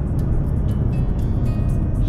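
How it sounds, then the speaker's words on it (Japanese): Low, steady hum of a Mazda Atenza sedan XD 2.2 diesel turbo engine with six-speed manual, heard quietly from inside the cabin while driving, with no talk over it. "もうエンジン音が静かですよね"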